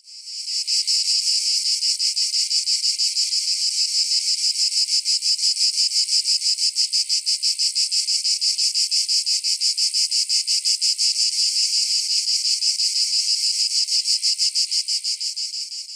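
A 17-year brood of periodical cicadas fills the air with a dense, continuous high-pitched chorus that pulses rapidly and evenly, loud and unbroken throughout, with no voices.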